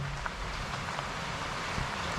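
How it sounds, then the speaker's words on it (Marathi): Heavy monsoon rain pouring down outdoors, a dense, even hiss of drops on surfaces that stays constant throughout, fairly faint and without any talking. "आता पण पावसाची झड आले"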